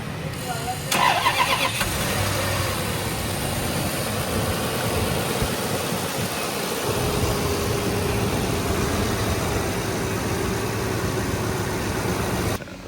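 A rebuilt Toyota Land Cruiser engine cranks briefly, then catches and settles into a steady, close idle that runs throughout, with a voice talking over it near the start.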